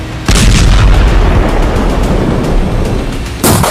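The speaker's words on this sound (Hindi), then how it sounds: "जब हिजबुल्लाह के ठिकानों पर इजरायल का बम गिरता है तो धमाका बड़ा होता है।" A massive bomb blast from an Israeli strike on a Lebanese village roars as a loud, sustained rumbling boom that fills the whole span, with a second heavy surge near the end; no voices are heard.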